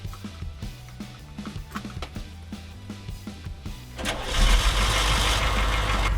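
Humvee diesel engine cranking with a rapid rhythmic starter chug for about four seconds, then catching and settling into a loud, steady rumbling idle close by.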